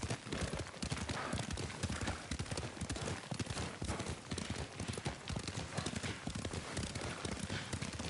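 Horse hooves gallop in a steady, rapid clip-clop rhythm while riding in the Ghost of Tsushima video game, loud and continuous throughout, with faint background sounds.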